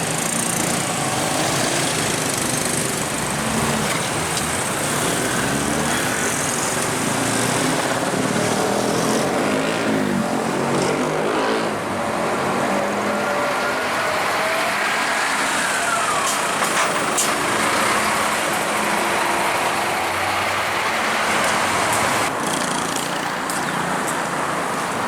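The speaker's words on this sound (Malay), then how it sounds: "8:10 train berhenti seketika di stesen." A train engine runs while the train is stopped at Kluang station, a continuous loud mechanical drone that holds steady throughout, with faint tonal sweeps passing over it.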